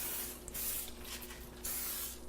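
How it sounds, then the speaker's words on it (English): Oil sprayed from a can into a baking pan: a steady, fairly quiet hiss lasting a couple of seconds, with slight surges in the spray. "we're gonna spray some oil all in this pan."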